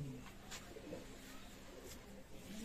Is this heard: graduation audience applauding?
no